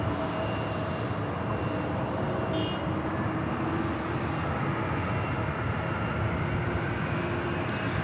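A Delta Airlines A321neo arriving from Honolulu passes over LAX with a steady, moderately loud engine roar and a faint whine, set against airport background noise.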